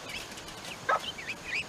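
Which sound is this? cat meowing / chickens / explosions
chickens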